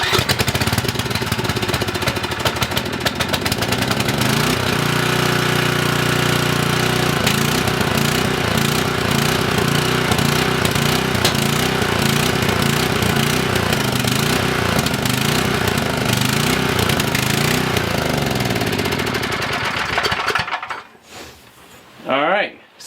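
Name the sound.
5000W Coleman generator engine cranking and running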